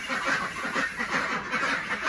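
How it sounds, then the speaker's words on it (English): Several ducks, including Muscovy and Campbell ducks, quack continuously in a noisy chorus, overlapping calls at moderate distance with no talking, on a homestead in freezing winter. "You can hear the ducks in here quacking."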